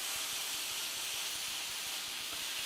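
Egg noodles hit a hot pan with tempeh and soy sauce, making a steady, soft hissing sizzle that holds evenly throughout at low volume, with no talking.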